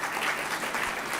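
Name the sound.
audience applause for a guest at a convocation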